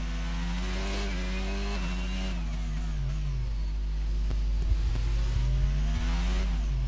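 A race car engine in a Monaco racing video game, pulling into the pit lane: a loud, steady drone whose pitch wavers and dips as the car slows, with a heavy low rumble throughout.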